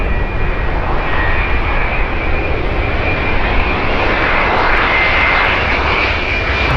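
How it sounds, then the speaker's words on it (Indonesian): A toy airplane giving out a loud, continuous engine drone that stays steady and close throughout, with no speech. "Widih, ada pesawat terbang."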